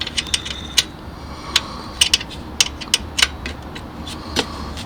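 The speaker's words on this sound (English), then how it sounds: "you have to come underneath here using a short Allen wrench" Small sharp metallic clicks and ticks come at irregular intervals as a short Allen wrench loosens the screws of a FAR-UV wall sconce light, each one close and crisp over a quiet background.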